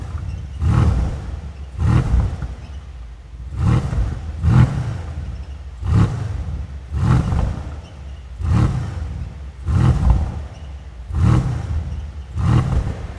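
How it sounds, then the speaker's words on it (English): A rebuilt Mercedes C63S AMG engine revved again and again, with its rear exhaust flap rattling, gives about nine loud, close roaring bursts in a steady rhythm, each rising and falling roughly every second and a half, with no talking. "if you rev the car, you can hear that exhaust flap at the back there"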